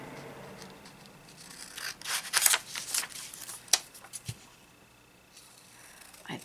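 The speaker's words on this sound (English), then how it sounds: "I'm going to cut them out one by one." Scissors snipping through printed paper pictures one by one for a craft project, a run of close, crisp cuts and paper rustles in the middle of an otherwise quiet stretch.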